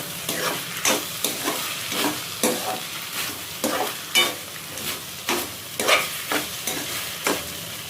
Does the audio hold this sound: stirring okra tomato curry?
yes